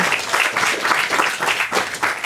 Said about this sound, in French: Merci de l'applaudir parce que c'est un exercice difficile.